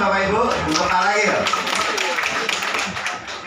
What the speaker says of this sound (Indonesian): Kasih tepuk tangan Bapak Ibu untuk Pak Ragil